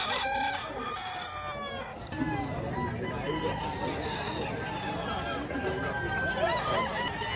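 Roosters crowing repeatedly amid clucking fowl at a busy chicken market in Padre Garcia, Batangas, several birds calling near and far over crowd chatter and background noise.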